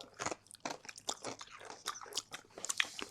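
Popping candy from a surprise egg crackles inside a mouth held close to the microphone, giving a rapid, irregular spray of sharp snaps and crunchy pops with no talking.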